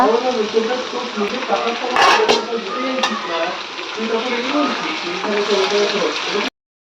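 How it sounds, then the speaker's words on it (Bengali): Potatoes frying in a pan give a steady close sizzle throughout, with brief clatter from stirring; someone talks over the cooking. "এইদিকে বসিয়ে দিয়েছি আলু ভাজা"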